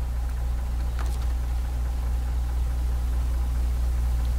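A truck engine idles in the SnowRunner video game with a constant, deep, even hum and low rumble that holds steady throughout, with no talking.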